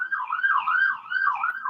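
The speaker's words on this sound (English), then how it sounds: "that's really generating some sirens" A wailing siren rises and falls in steady, repeating sweeps, loud and continuous with no other sound around it.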